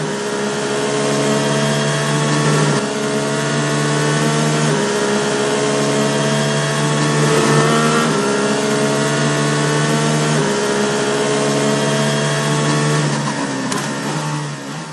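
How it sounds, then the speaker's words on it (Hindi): A cartoon car speeds off fast, its engine a loud, steady whine that keeps running at high pitch and holds strong without a break. "वह वैसे ही बहुत लेट हो चुका था, इसीलिए वह गाड़ी भी बहुत तेज स्पीड में चला रहा था।"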